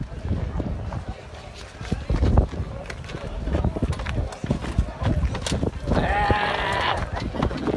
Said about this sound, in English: We got 2 goats, 2 sheep.